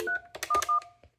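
Three short DTMF keypad tones dialing extension 311 on a FreePBX home phone system, crisp and close in quick succession, each followed by a brief pause in a quiet room.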